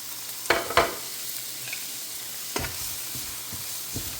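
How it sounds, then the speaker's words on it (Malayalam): Onion fries in a little oil in a pan for vegetable cutlet, giving a soft, continuous sizzle broken by a few sharp stirring clacks and scrapes nearby. "നമുക്ക് എണ്ണ ഒഴിച്ചു കൊടുക്കാം സ്വല്പം എണ്ണ മതി അപ്പം ആദ്യം നമുക്ക് സവാള അങ്ങോട്ടിട്ട് വറ്റാം"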